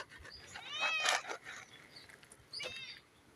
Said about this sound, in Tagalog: Lagi naman bumugutom itong mga pusa.